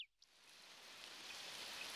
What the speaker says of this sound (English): Looks like it's starting to rain.